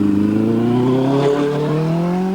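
A drag racing machine, a nitrous-fed bike, passes down the track at Santa Pod in 1993, a loud, steady engine wail whose pitch climbs gradually over a couple of seconds, close and with no voices over it.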